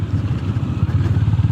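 Honda GB 350 S single-cylinder motorcycle exhaust under way, a steady low, pulsing thump that stays loud and close throughout with no talk over it.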